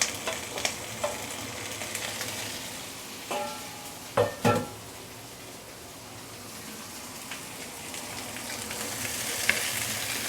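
Catfish pieces sizzle in a hot wok as they are stir-fried for Kung Po catfish, a steady frying hiss with a few sharp crackles and scraping stirs near the middle, no talking.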